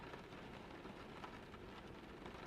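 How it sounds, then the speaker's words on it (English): Steady rain falls from above on a still, misty Irish night, a dense even wash of patter that holds at a constant level throughout with no voices. "the rain falling from above"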